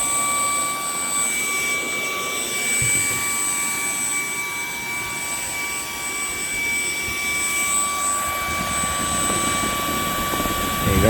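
A MooSoo TC1 Pro stick vacuum cleaner with LED display hums steadily with a high, whining motor tone and a broad airy rush, running continuously up close.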